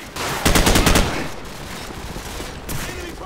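Suppressing gunfire in Call of Duty 4: Modern Warfare during a swamp firefight, a loud rapid automatic burst followed by continued scattered shots and battle noise.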